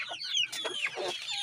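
Young chickens around a henhouse give a quick run of clucks and squawks, close and fairly loud, in several bursts with short gaps and no talking.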